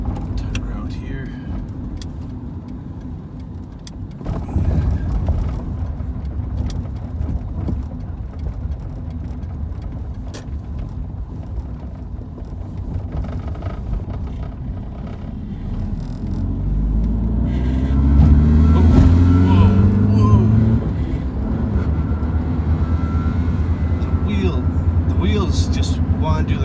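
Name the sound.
old Honda car driving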